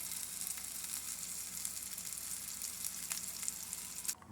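Bacon fries in a pan with a faint, even crackling sizzle that runs steadily and ends with a soft knock.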